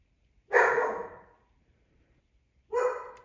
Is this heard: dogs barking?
yes